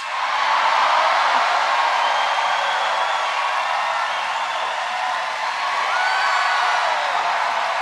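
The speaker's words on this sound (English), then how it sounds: "People would cheer so loud for roads." A large crowd at a Kamala Harris rally in Flint, Michigan, cheering and shouting in a steady, loud, sustained roar with scattered whoops.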